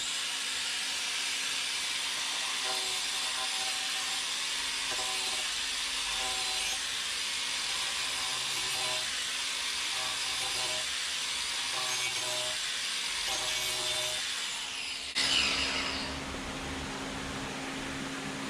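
A Graff carving disc on a power tool cuts into wood in a steady whining, hissing grind that stays even and close, then ends in a brief louder scrape near the finish.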